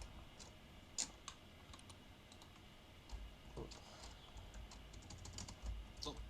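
Computer keyboard typing comes as sparse, close clicks and short bursts of keystrokes with small pauses, quiet and alone against a faint room hum.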